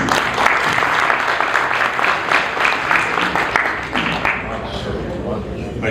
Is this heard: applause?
yes